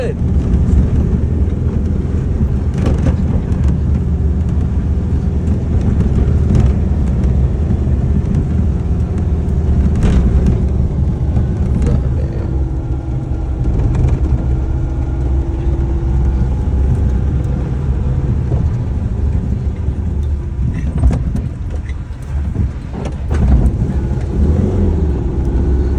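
A 1970 Volkswagen Beetle with a carburetor still being adjusted, its air-cooled engine droning steadily and loudly from inside the moving car, with gear-shift revs and a voice talking over it throughout.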